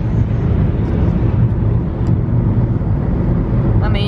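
Steady low road rumble from inside a car on the drive to pick up an 8-week-old Bernese mountain dog puppy, continuous and fairly loud with no distinct events.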